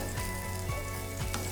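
Beef stew bubbling and sizzling steadily in a pot as mushrooms go in, with a few soft knocks over the constant close hiss.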